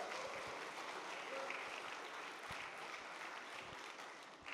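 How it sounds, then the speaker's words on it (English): Audience applause at a conference event, a steady wash of many hands clapping at moderate distance, fairly faint and sustained throughout without any talk. "Can we guys give ourselves an applause for that?"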